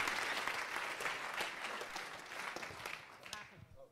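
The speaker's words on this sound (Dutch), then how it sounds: "Applaus voor Aris." Audience applause for a presenter named Aris at an OnlineTuesday pitch event, dense steady clapping from a room of people that fades out toward the end.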